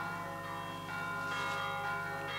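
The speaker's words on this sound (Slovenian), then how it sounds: "Zvonovi bojo!" Church bells ring steadily through the whole stretch, a dense layered peal with sustained tones that swell slightly partway through, moderately distant and with no one talking over them.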